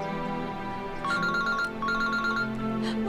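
A telephone rings during a tense, failing call attempt, its bright electronic ringtone sounding in two repeated bursts over a low steady background hum, with no voices.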